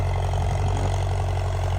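A small farm tractor engine runs steadily nearby with a low, even idling drone and a faint regular knock.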